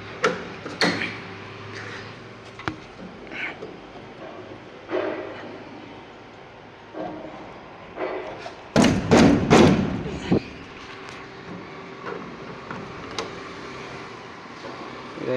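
The stuck door of a Mahindra 50 kVA diesel generator is rattled and thumped, giving scattered knocks that build into a loud, dense burst of banging near the middle, with someone talking on and off.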